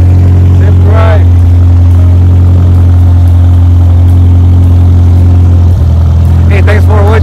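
A 1938 MG TA Special sports car idles with a steady, loud low engine drone close by, the note dipping briefly near the end as it pulls away, with voices talking over it.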